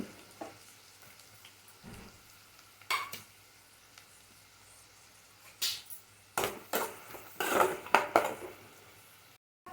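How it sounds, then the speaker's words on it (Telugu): Onions fry in hot oil for a flat bean curry, a low sizzle broken by occasional spoon stirs and clinks against the pan, growing busier and louder toward the end, with no talking. "ఆయిల్ వేడెక్కింది కదా ఆనియన్స్ వేసేస్తున్నాను"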